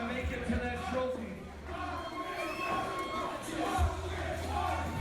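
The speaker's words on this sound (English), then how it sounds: "The crowd here at the watering bowl, though, chanting for your winner, Mosh Pit Mike." A wrestling crowd at a deathmatch event chanting for the winner, a loud, rhythmic mass of voices with shouts rising and falling over a continuous roar.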